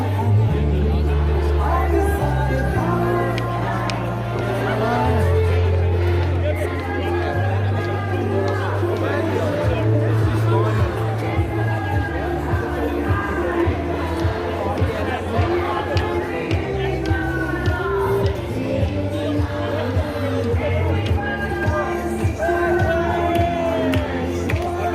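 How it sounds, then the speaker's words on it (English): Dense crowd noise in a busy public place: continuous babble of many voices with occasional shouts and whoops, steady and loud throughout, with a low hum underneath. "wait for the crowd to die out"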